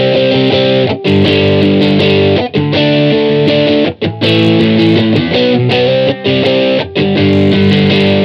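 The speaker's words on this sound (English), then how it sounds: "those are the power chords with distortion on" An electric guitar plays power chords through overdrive, loud and thick, struck in rhythmic bursts with brief choked gaps between chords, alone without talk.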